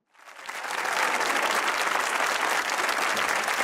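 Studio audience at a Pakistani comedy talk show bursts into sustained applause that rises quickly and holds steady, full and close, with no talk over it.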